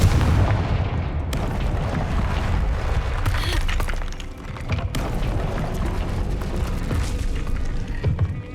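Explosive spell blasts in the video game Hogwarts Legacy, a loud continuous wash of booms and crackling magical bursts with sharp hits mixed in, dense battle noise throughout.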